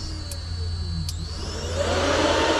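A pair of overhead fans on a UTV runs with a steady, close whir. Two short high clicks come early, and the airflow swells louder toward the end.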